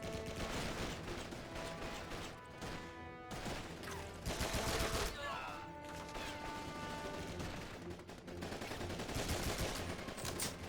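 Sustained gunfire from the World War II shooter Call of Duty 2: Big Red One, with rapid machine-gun bursts and rifle shots layered over loud battle noise through most of the stretch.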